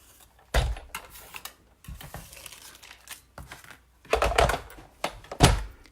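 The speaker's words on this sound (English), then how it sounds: "I'm going to bring in the big shot" Stamping setup with a Big Shot die-cutting machine cutting cardstock: a handful of separate crinkly, clattering bursts and thunks, close and fairly quiet, with short pauses between and no talking.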